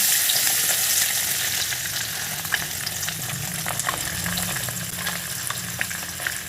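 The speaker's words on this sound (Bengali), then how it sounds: "গ্যাসের ফ্লেম লো করে ধীরে ধীরে মাছগুলোকে তেলের ভেতর ছেড়ে দিতে হবে" Mixed fish frying slowly in oil in a wok over a low flame, a dense continuous sizzle with small crackles and pops, close and steady throughout.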